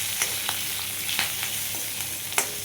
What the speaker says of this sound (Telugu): ఒక 3-4 వెల్లుల్లి, ఒక 2 పచ్చిమిర్చి, కరివేపాకు ఇవి వేసేసుకుందాం. వేసి ఒక 2 నిమిషాలు తవ చేద్దాం.